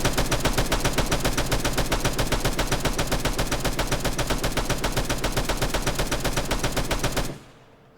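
Vehicle-mounted gun fired by a gunner in Arma 3, a loud sustained burst of rapid automatic fire lasting about seven seconds before cutting off abruptly.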